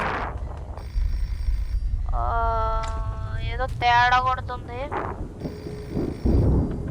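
A phone rings in the horror video game Hello Guest, its ringing tones repeating in a loud electronic burst, with someone talking over the start and end.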